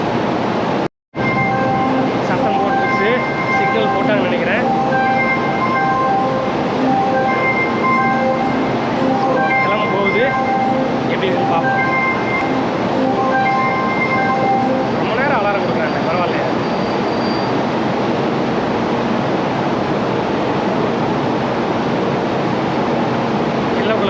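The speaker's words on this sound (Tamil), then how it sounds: "வண்டி ரெடி ஆயிடுச்சு ஹை ஸ்பீட் ரயில் எக்ஸ்எஸ்ஆர் தைவான்" A Taiwan High Speed Rail train runs steadily with a constant rumbling roar and faint tonal whines, a continuous, fairly loud ride with no pauses.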